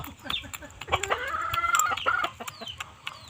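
Chickens clucking and squawking up close, a busy run of overlapping calls with a rising squawk in the middle, all against a low farmyard rumble.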